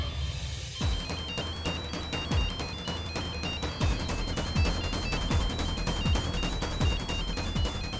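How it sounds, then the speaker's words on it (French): A telephone rings in a domestic drama scene, its high repeating trill pulsing steadily over a busy background of rhythmic thumps and music, moderately loud throughout. "Shoria, il y a un téléphone qui sonne de ce côté."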